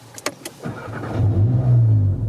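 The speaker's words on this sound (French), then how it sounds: "ça ronronne, ça fait vraiment le bruit du 4 cylindres typique" A Golf 7 GTI Clubsport four-cylinder engine starts: a few sharp clicks and a brief starter whir, then the engine catches and settles into a loud, close, steady idle rumble.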